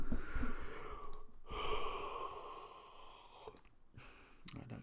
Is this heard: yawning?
yes